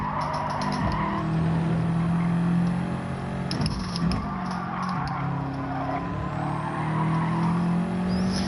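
A race car in Gran Turismo 7 drones steadily at high revs, its engine note rising and falling continuously as it runs, loud and close with no talk over it.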